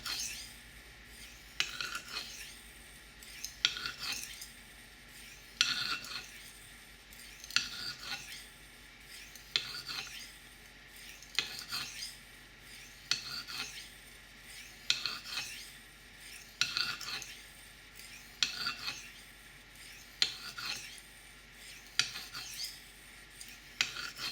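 A knife blade is drawn heel to toe across an aluminum oxide or silicon carbide sharpening stone in steady repeated strokes, a soft rhythmic rasp roughly every second and a half, close by with no talking.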